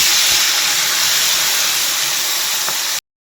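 Marinated fish slides one piece at a time into hot mustard oil in a wok, setting off a loud, steady hiss of frying that runs unbroken for about three seconds and then cuts to silence.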